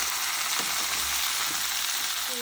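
Ridge gourd pieces sizzle and crackle in a hot pan while being mixed, a loud, close, unbroken frying hiss with soft scraping of the stirring and no talking.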